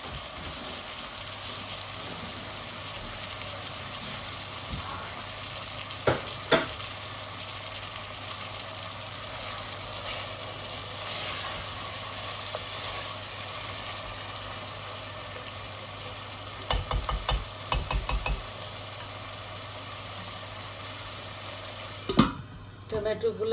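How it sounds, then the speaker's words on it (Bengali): Tomatoes frying with roasted spices in a pan for a sour meat, potato and pangasius fish curry, a continuous sizzle with occasional sharp clatters of stirring and a low steady hum underneath. "এখন আমি টমেটো দিলাইম"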